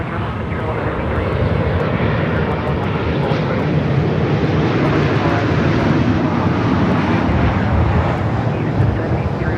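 A jet airliner at LAX, a 787-9 Dreamliner, passes with a loud, continuous broadband engine roar and rumble that holds steady, close, with faint radio chatter underneath.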